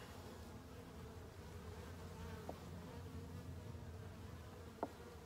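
Black honeybees humming around a divided Dadant hive, a soft continuous buzz close by, with two brief louder clicks or knocks partway through.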